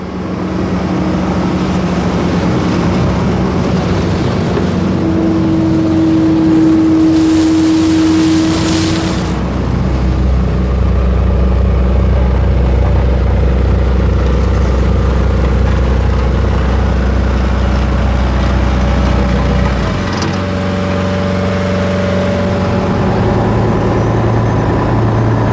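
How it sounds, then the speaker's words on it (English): A big rubber-tyred earth mover, a "rubber duck" working on road construction, runs its diesel engine with a steady low rumble and shifting drone throughout, loud and close, with no talk. "This earth mover is known as a rubber duck because it has tyres, not tracks like most of the others."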